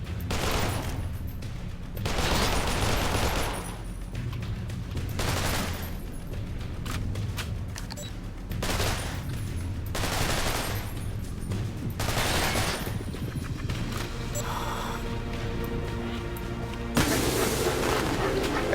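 Bursts of MP5 submachine gun fire in the horror video game Garage: Bad Trip, loud rapid volleys of several seconds each separated by short pauses, with booming impacts and game sounds throughout.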